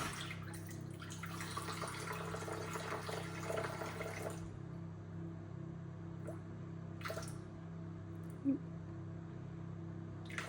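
Lukewarm water poured into a container for pizza dough, a steady splashing pour for about four seconds, then silence broken by a couple of brief drips and clinks.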